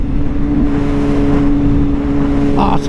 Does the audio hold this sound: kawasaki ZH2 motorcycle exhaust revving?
yes